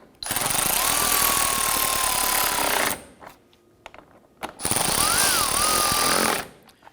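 A power tool hammering down bumper cover bolts on a Honda Pilot in two loud, close bursts of about three seconds and two seconds, each with a rapid rattling impact buzz and whine, separated by a brief pause with light handling noise.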